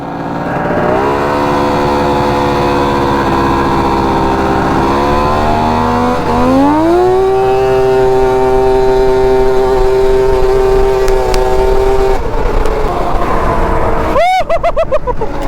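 A lawn tractor fitted with a triple two-stroke 850 engine races at full throttle, its loud buzzing whine climbing through revs, holding a high sustained note, then dropping off near the end as another engine sweeps past.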